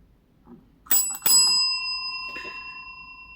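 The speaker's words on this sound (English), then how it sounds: "The bell rang, ending round 2." A bell rings to end a boxing round, two sharp strikes close together followed by a long ringing decay that fades out, loud and clear with no talking.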